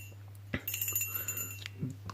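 Small brass bell without its clapper ball, tapped into faint, thin metallic rings, several light strikes in an irregular run over a steady low hum.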